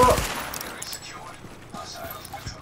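Gunfire in the video game The Division, with a short burst of shots at the start followed by scattered faint pops and mechanical clicks, under a person talking.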